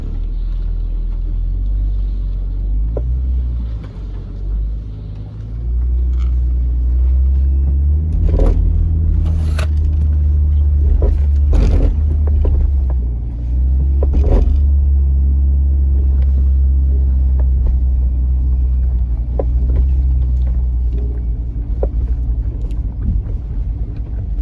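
A Ford Falcon wagon driving over rough coastal terrain near Esperance, a loud, continuous low engine rumble with wind buffeting the microphone, broken by intermittent knocks and thumps from the bumpy ground, close and sustained without talk.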